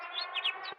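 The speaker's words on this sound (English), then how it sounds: "Crane is a large bird which is mainly characterized by its long legs and a long neck." A crane's call, one short harmonic bird cry of under a second with brief rising tweets along it, clear and fairly close, heard alone.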